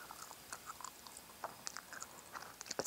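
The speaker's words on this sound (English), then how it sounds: "and I'm chewing gum." Strawberry shortcake flavored gum is chewed close to the microphone, giving quiet wet clicks and smacks in an irregular rhythm over a hushed background.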